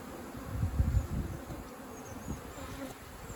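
Native honeybees buzzing close by during a hive rescue in Manacor, Mallorca, a soft continuous hum with a denser burst early on, then a steady low drone.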